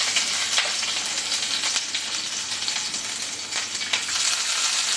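Garlic frying in oil with dried chillies gives a dense, steady sizzle with close, crackling spatter throughout and no voices.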